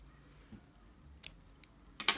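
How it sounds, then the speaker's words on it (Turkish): Scissors snipping white yarn during crochet work: a few small, crisp clicks near the end, quiet and close, after a mostly still background. "Beyaz ipi burada kesiyorum."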